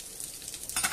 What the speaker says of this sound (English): we'll cook these peppers and the garlic and brown everything nicely off